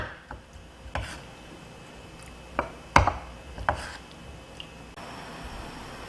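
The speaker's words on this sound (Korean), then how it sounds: "우리가 이렇 거칠게라도 다지고 들어갈 거예요" A handful of sharp knife strikes against a cutting board, roughly chopping tomatoes, irregular and spaced apart, with quiet room noise between them.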